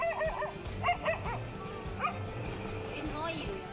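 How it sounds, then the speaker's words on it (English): Several dogs bark and yip in a frenzy at a king cobra, short sharp barks in bursts heard at a moderate distance over a steady outdoor background, with a narrator talking throughout. "they dashed over to the cobra and began a barking frenzy in an attempt to frighten the reptile"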